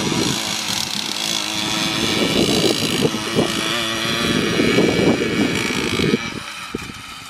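A rocket-tuned, motorized DDR folding bicycle revs its small engine loudly and pulls away, a steady buzzing drone with wind rumble and a brief voice.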